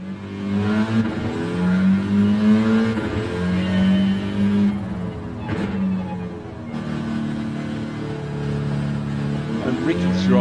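A Volkswagen Scirocco's engine drones steadily in a racing video game, its pitch rising and falling through gear changes, with voices talking over it throughout.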